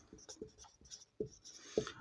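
Handwritten strokes during a class 10 maths lesson on the Basic Proportionality (Thales) theorem, a series of short scratchy marks with a couple of sharper taps, close and fairly quiet, no voice over them.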